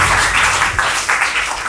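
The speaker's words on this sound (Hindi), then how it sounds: "एक जोरदार ताली होनी चाहिए।" Studio audience applause during a KBC-style general knowledge quiz show, a steady wash of clapping filling the short stretch without pause.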